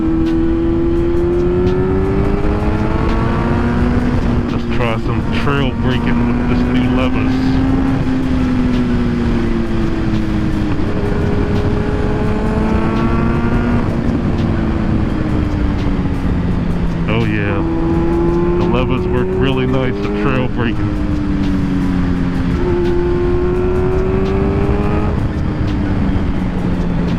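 A 2022 Kawasaki Z900 motorcycle on Road 6 tires rides while trail braking, its loud engine rising and falling through revs under steady wind rush, with a rider talking over it at times.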